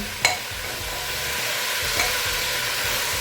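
Grated carrot halwa cooks with sugar and cardamom in a pan, giving a steady close sizzle with a sharp scrape of the spoon near the start and a softer stir later, with no talking.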